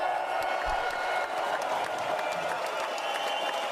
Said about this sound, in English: let's get bro a hand clap on that